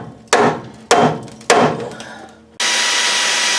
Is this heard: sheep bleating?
no